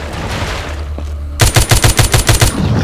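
Gunfire in The Walking Zombie 2, a loud rapid burst of about eight evenly spaced automatic shots that starts abruptly after quieter game ambience, close and punchy.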